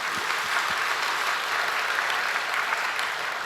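A church congregation applauds during a Sunday sermon at a Daegu church, many hands clapping in a steady, even roar from start to finish, with no voice standing out.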